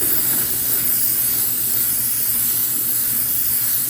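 A spray gun lays a light gray coat of mixed black and white paint onto a Harley-Davidson tank, producing one loud, unbroken hiss at close range from start to finish.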